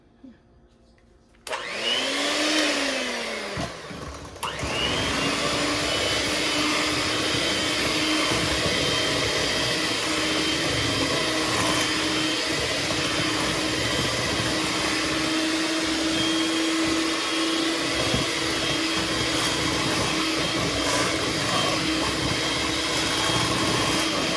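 Electric mixer blending eggs into sweet potato cornbread batter, a loud, steady motor whir running close and continuously for over twenty seconds after a brief start-up, with no talking.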